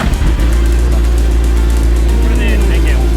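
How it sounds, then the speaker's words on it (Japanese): A Suzuki Hayabusa motorcycle engine cranks and then catches after a single press of the start button, settling into a loud, steady idle rumble close by, with a voice heard briefly near the start. "このはやぶさは1回スタートボタンを押していただくと、エンジンかかるまでクランキングしてくれます"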